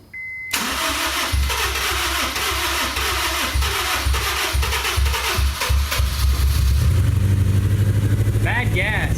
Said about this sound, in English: Let's see if it'll crank up again.